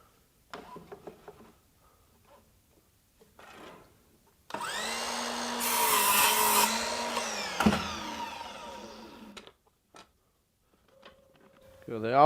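An RYOBI 18V 7-1/4 inch sliding compound miter saw cuts crown molding: a loud whining motor spins up, bites into the trim with a rising rasp, then winds down, with a few clicks and shuffling around it.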